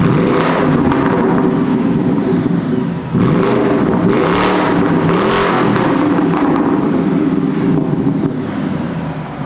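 A Morgan car engine roars and revs steadily, loud and close, the pitch dipping and then climbing again, with wind buffeting the microphone.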